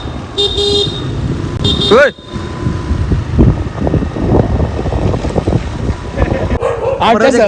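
Dogs bark outdoors at night near a road, with one clear bark rising above dense traffic rumble and a horn toot, while people talk nearby.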